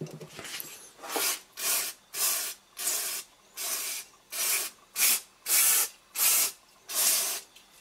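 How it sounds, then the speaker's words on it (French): Compressed air blow gun cleaning a Honda HRX lawn mower carburetor, about a dozen evenly spaced hissing blasts of air, close and steady in rhythm with no talk. "Après je vais passer un coup de soufflette partout."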